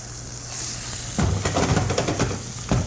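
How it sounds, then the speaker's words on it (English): Salmon frying in a hot pan gives a steady close hiss, and a burst of crackling sizzle and pan clatter follows partway through as the fish is flipped, with no talking. "Now we've had the salmon in the pan for approximately 35-40 seconds"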